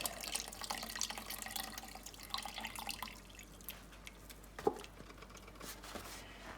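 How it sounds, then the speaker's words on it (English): Chicken broth pours into a soup pot for sausage and spinach tortellini soup, giving a continuous wet splashing and trickling that thins out toward the end with a few drips. "There goes all 32 ounces of the chicken broth."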